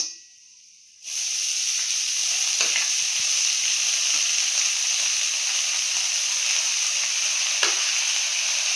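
Red amaranth greens dropped into a hot pan set off a sudden loud, steady sizzle that keeps going, with faint stirring scrapes now and then.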